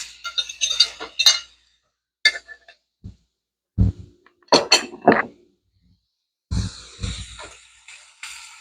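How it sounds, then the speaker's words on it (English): Shrimp going into a pan for garlic butter shrimp with vegetables, heard as a series of sharp metallic clinks and scrapes of utensil on pan in separate bursts with quiet gaps between them. "now I'm gonna add in the shrimps"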